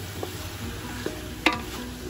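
Ginataang kalabasa is stirred in a frying pan, soft sizzling under a few brief scraping clicks of the utensil, with one sharper knock against the pan near the end.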